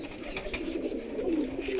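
King pigeons coo softly in a close, low, rolling murmur, a continuous throaty warble lasting the whole short stretch with light background noise.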